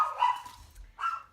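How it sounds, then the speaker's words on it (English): A pet dog barks indoors in the background, two sharp yips about a second apart, with a faint low hum underneath and no one talking. "My dog is in the background and she just keeps barking at everything she hears outside"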